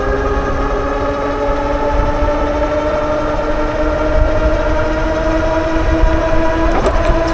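Dual-motor Wildeway Wander 26x4 electric bike climbing a moderate hill under full throttle at speed, a steady tonal motor whine with layered harmonics rising gradually in pitch over rushing wind noise, loud and continuous throughout.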